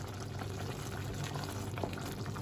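Chicken curry gravy bubbles and simmers in a pan while being given a final mix, a steady, close, wet bubbling texture with no voices.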